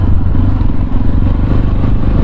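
Tekken 250 motorcycle engine during a break-in ride through a cool forest, running at light load as it coasts downhill; a steady, loud low droning rumble close by, with no speech.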